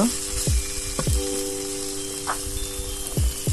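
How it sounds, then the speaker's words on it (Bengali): Banana flower (mocha), boiled earlier with turmeric, frying in a pan in a village kitchen until browned and charred, with a steady close sizzle broken by a few sharp stirring scrapes. "একদম ভাজা ভাজা করে ফেলতে হবে"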